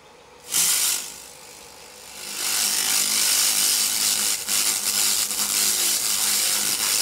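A laser rust cleaner swept in a circular pattern over rusty metal, a loud steady hiss that starts briefly, dips, then holds continuously with slight fluctuations, close by and with no one talking.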